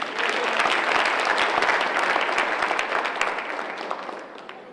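An awards-ceremony audience applauds, a dense burst of many hands clapping in a hall that holds steady and then gradually thins and fades toward the end.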